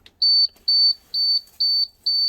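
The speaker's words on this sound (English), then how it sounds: "now when we turn the key on, we should get a beep." Dump truck warning beeper sounding with the ignition key turned on: five loud, steady high-pitched electronic beeps, each about a quarter second long, repeating evenly at roughly half-second intervals, close by with nothing else around them.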